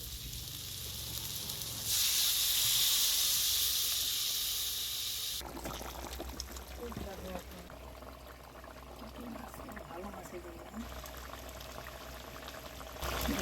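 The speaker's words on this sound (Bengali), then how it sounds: "পরিমাণ মতো জল দিয়ে দিচ্ছি।" Water is poured into a pan of fish curry for a chital fish dish, with a loud rushing pour for a few seconds, then softer bubbling and sizzling as the curry simmers.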